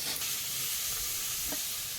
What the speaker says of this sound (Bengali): চিংড়িটাকে ভেজে তুলে নেবো